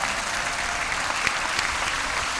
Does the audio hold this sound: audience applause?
yes